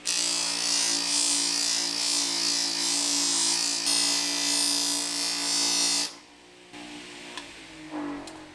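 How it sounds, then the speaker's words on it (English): A flap wheel grinds scratches off a metal part for a brushed finish, giving a loud, steady abrasive whine with tonal hum that runs about six seconds, then drops away to quieter spin-down and faint clatter. "get all these scratches smoothed out, and then I will move to the fine wheel, kind of bring it back to that brush finish"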